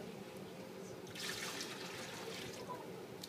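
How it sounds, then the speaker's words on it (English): Warm water scooped up and poured into a tank during an equilibrium demonstration, a soft splashing pour swelling in the middle and trickling off, fairly close, with no talking. "I'm going to scoop as much water as I can, and we're going to pour equally"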